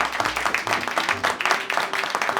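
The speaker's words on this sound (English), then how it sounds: "let's give her a big round of applause" An office meeting breaks into applause for an employee just promoted to Director of Customer Operations: steady, dense clapping from a group of people, close and fairly loud throughout, with faint voices mixed in.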